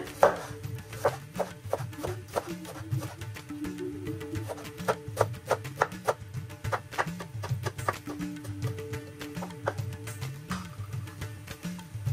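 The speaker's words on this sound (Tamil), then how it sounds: "இப்ப நல்ல மெல்லிசாக வெட்டி கொள்றேன்" A knife chops spinach leaves finely on a board for a dal and spinach curry, a fast, regular series of crisp taps over a soft thudding undertone, close and clear with no talking.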